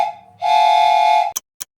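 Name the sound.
3D printed train whistle being blown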